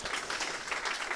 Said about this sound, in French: je voulais qu'on applaudisse bien fort Caroline pour son travail.